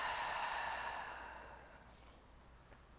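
A single long, soft exhale through the mouth during a gentle morning yoga flow, breathy and close, slowly fading to quiet with a faint click at the very end.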